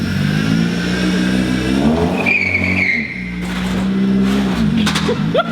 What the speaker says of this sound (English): This is the last time this car will ever start